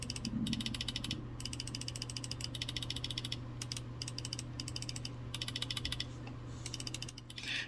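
Buttons on a G Wolves HSK Pro 4k gaming mouse clicked in a rapid, nearly continuous run of crisp, close-up clicks with brief pauses, over a steady low background hum and with no talking.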